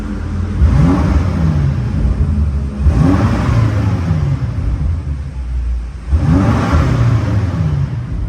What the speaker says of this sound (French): Je vais accélérer.